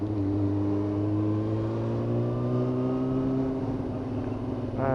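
A Yamaha YZF R6 motorcycle engine with a stuttering rev fault revs steadily in first gear, a loud, close, continuous drone that climbs slowly in pitch and then dips, with a short sharp rise at the end, no talking.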